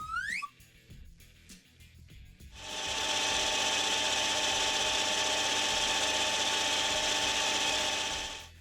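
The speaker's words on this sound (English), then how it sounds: "With a 3-jaw back on the lathe, I'll whittle down a little more chromoly to the same diameter as the shaft." A metal lathe with a 3-jaw chuck turns down chromoly steel to match a shaft diameter, a steady, loud mechanical whir with tonal whine starting after a few seconds of faint clicks and handling noises.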